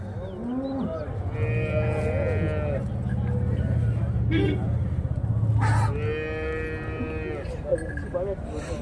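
Cattle lowing at the Chintamani cattle market in Karnataka, two long loud moos a few seconds apart over a crowded market murmur, with people talking nearby.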